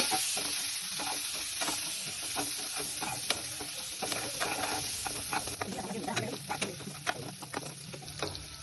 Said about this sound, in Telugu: బాయిల్ చేసిన ఎగ్స్ వేసుకొని కొంచెం ఫ్రై చేసుకోండి బ్రౌనిష్గా వచ్చేంత వరకు